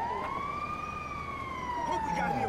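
Ambulance siren in GTA Online, a steady wailing tone that rises and falls slowly, loud and close, with game background noise underneath.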